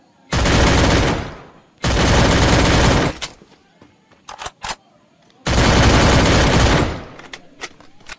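Rapid bursts of automatic gunfire from the mobile game Free Fire played on a phone, three long loud volleys separated by scattered single shots and clicks, with no talk.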